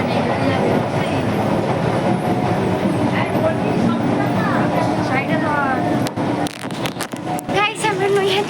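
A train rumbles steadily along the rails with a continuous roar and rattling, loud and close, with clicks and clacks near the end and voices faintly underneath.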